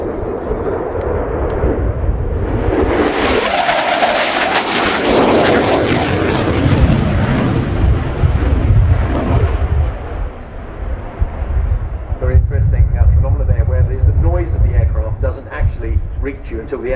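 A loud F/A-18C Hornet fly-by at about Mach 0.9 during an air display: a broad roar swells over a few seconds into a rushing peak, then gives way to a heavy, lingering rumble.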